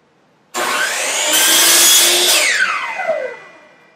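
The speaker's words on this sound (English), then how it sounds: "So the miter saw doesn't make any noise until you start using it, obviously, and most of the noise is made whenever you're actually cutting wood." A miter saw cutting wood starts up abruptly, its loud, close motor whine holding steady through the cut, then spinning down and fading over the last second, with no voices.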